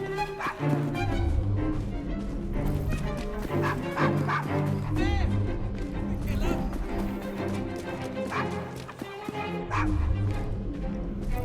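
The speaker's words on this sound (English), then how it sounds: "Shut up, dog!" A dog barks repeatedly in Assassin's Creed Syndicate, sharp yips and bow-wows over game music and background ambience, with a voice speaking nearby.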